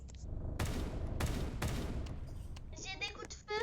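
Gunfire rings out in a zombie video game: three sharp, loud shots in quick succession, followed by a burst of rapid automatic fire with metallic ringing near the end.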